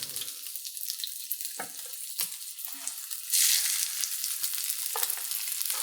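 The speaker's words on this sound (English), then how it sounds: "So I think it's safe to put the tuna in. Gently, just like this." Tuna sizzles and crackles loudly in hot oil, the hiss surging as it is laid into the pan, with scattered pops throughout.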